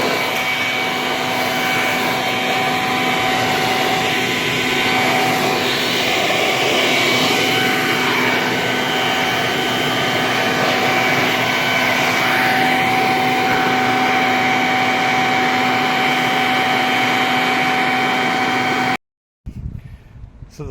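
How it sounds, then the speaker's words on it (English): A loud electric leaf blower runs steadily and close for about nineteen seconds while clearing gutters on a house roof, giving a constant whine with a strong tonal hum, then cuts out abruptly before a short burst of rustling. "I'm just going to take the blower and lower it down onto the roof"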